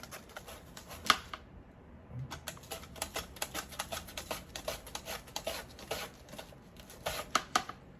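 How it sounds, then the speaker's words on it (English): A run of crisp, rapid clicks and chops as an onion is sliced on a slicer with a safety guard, irregular bursts of close, dry cuts with brief pauses between. "Now, we're going to cut the onion and we're going to slice it."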